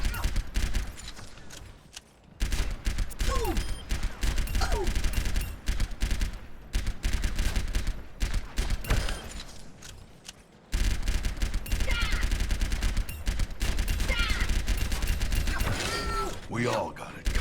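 Soldier 76's pulse rifle in the Overwatch video game fires in long rapid bursts, close and loud. A short pause breaks the shooting, then firing resumes, with game effects and a voice partly mixed in.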